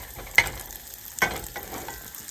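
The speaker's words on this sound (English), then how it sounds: "So we're crisping up the bacon." Bacon crisps in a hot pan with a soft, steady sizzle, broken by a couple of sharp clinks or scrapes as it is stirred, close by and with no talk.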